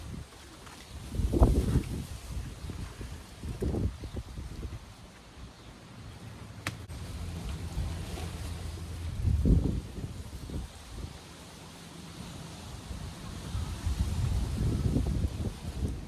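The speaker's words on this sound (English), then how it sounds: "Isn't it a windy day?" Wind gusting outdoors in a garden, rising into several loud buffeting rushes against the microphone between steadier stretches of breezy noise.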